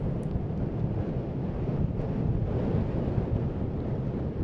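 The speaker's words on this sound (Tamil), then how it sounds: "சென்னை மெரினா கடற்கரையை பொறுத்த வரைக்கும் தற்பொழுது லேசான தூறல் மழையோடு பலத்த காற்று வீசி வருகிறது" Strong cyclone wind roars steadily across the microphone at Marina Beach, Chennai, with a dense, continuous rumble and possible surf underneath, during light drizzle.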